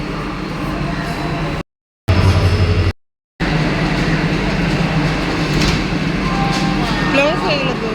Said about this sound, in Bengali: তো ট্রেন ছাড়বে এখনই মেয়ে।